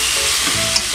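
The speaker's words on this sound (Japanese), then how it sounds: "あとは仕上げで箸で全体を混ぜたら" Chopsticks stir sauce yakisoba, Hita-style from Oita and made with Oisoya noodles, as it fries in a hot pan. A loud, continuous sizzle runs throughout with soft scraping and stirring movements, and no one speaks.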